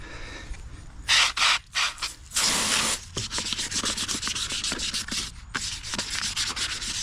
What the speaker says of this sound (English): I'm just gonna hit it with some 600 now that they're all nice and clean.